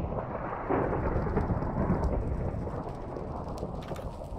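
Heavy Minecraft thunderstorm, steady loud rain with a deep rumble of thunder rolling continuously through the whole stretch, no voices.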